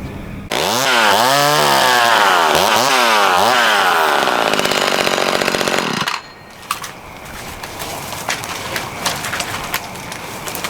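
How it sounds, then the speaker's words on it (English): A McCulloch Mini Mac 35 chainsaw cuts branches, revving to a loud, close buzzing whine with rising and falling pitch for several seconds, then drops to a low idle putter with faint birds in the background. "that's why we use Mini Macs. These are really powerful little saws."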